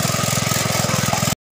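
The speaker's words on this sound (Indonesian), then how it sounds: "si cilik nih lagi ngebajak sawah" A small hand tractor plows a rice paddy in a rural village, its mid-pitched engine chugging in a steady rapid rhythm, close and loud, alone before cutting off abruptly.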